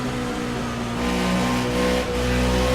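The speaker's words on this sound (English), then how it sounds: "And you hear that 1X really pedaling that gas." Hobby race car engine at Dover under throttle, a steady mid-pitched drone that swells and eases slightly as the driver works the pedal, heard alone without talk.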